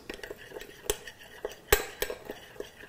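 Metal spoon stirring a dry spice mix of kosher salt and black pepper in a bowl, giving a run of close, light scrapes and sharp clinks against the bowl, with a few louder taps.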